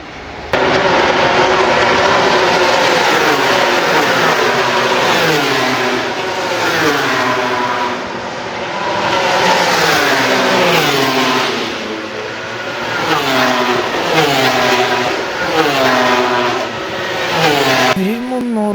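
Racing machines scream past at the MotoGP Malaysia circuit, a continuous loud engine roar rising and falling in pitch as bikes accelerate and brake, several passes blending together with no clear gaps.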